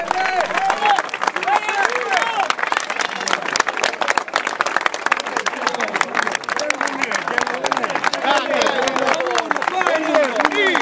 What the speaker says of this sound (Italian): Ma anche qui applausi, alto senso di civiltà dimostrato, ecco, dai sostenitori del candidato sindaco Rino Genco.